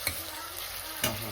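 Chicken curry ingredients frying in a home kitchen pan, with rice being fried first; a steady broadband sizzle runs throughout, with two brief stirring clatters near the start and end, no voices.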